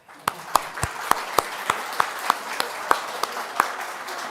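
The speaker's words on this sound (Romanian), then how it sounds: "Haideți să-i aplaudăm!" Audience applause at a church Christmas program after a performance by children and high school students, heard as sparse, evenly spaced single claps over a soft room background rather than a full ovation.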